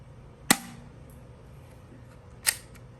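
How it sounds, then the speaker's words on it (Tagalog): Two sharp snaps from a plastic Glock 17 spring-type toy pistol, fired once near 0.5 s and again about two seconds later, each crisp and close with a quiet room between shots. "Putok natin."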